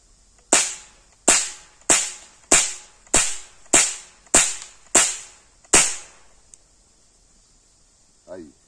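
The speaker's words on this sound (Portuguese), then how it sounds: "8 tiros sem puxar o cão." A Rossi R8 air rifle fires eight quick shots in a steady, evenly spaced rhythm. Each crack is sharp and close and trails off briefly, and a short faint sound follows at the end.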